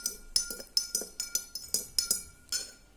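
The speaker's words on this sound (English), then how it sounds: "I'll be taking 1 spoon of sand and I'll be mixing it another glass" A spoon stirs sand into a glass of water, making a quick run of sharp, ringing clinks against the glass, about a dozen close taps at an uneven rhythm.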